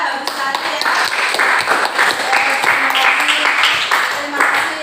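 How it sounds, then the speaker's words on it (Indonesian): A classroom of ninth-grade students claps together, the uneven hand claps close and fairly loud. Some talk runs under the clapping. "Oke, kita kasih tepuk tangan dulu ya"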